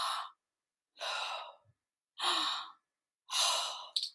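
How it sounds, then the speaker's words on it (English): Two slow, deep breaths, each a breathy inhale followed by a long sighing exhale, close and clear with pauses between, as in a children's calming exercise. "Two deep breaths."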